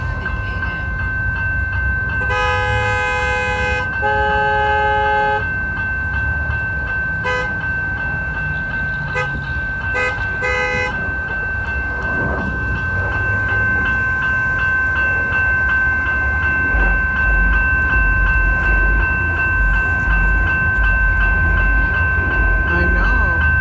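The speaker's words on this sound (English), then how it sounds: "Look at the trains, they stop." Houston METRO light rail trains pass close by on street tracks, a steady rolling rumble with several loud electronic horn and bell blasts early on, amid a busy urban outdoor setting.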